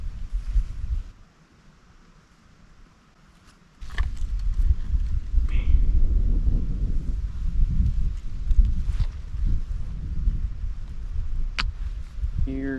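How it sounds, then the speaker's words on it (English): Wind gusts across a backcountry campsite on a chilly late-fall day, buffeting the microphone in uneven rumbling surges after a brief lull, with a few scattered knocks and rustles. "Here comes the wind."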